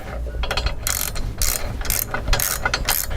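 A spanner tightening a bolt on a hand-powered wire winder set over a tow bar hitch, giving repeated metallic ratcheting clicks in short bursts at a steady working rhythm, close and fairly loud.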